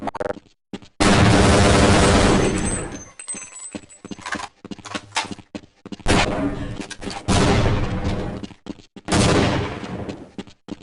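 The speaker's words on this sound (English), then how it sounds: "That guy fired a grenade at me." 40mm grenade launcher fire in Half-Life: Blue Shift comes as loud, sharp bursts and booms with ragged decays between them, broken by short gaps.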